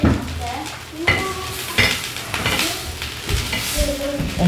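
Beef strips sizzling in a hot pan at home, loud and close, with repeated spatula stirring and clinks against the pan; brief voices are heard in the background.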